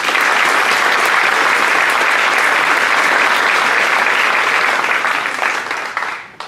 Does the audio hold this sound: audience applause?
yes